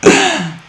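A single short, loud sneeze close by, a sharp burst that trails off quickly.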